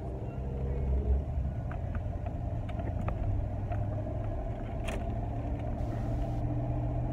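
A truck cruising down the road at about 65 mph, heard from inside as a steady, loud low rumble of engine and road noise with a constant wind hiss, continuous throughout.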